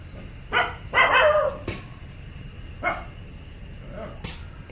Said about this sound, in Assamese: ফিবিয়ে পূৰা ভুকি আছে, মানুহে কাম কৰি আছে যে সেইটো কাৰণে ভুকি আছে